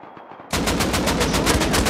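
Rapid automatic gunfire in the Rust console video game, a sharp burst of evenly spaced shots erupting after a brief quiet lead-in and continuing loud and close.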